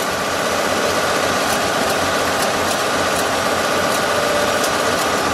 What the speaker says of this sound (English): You just listen to the exhaust note,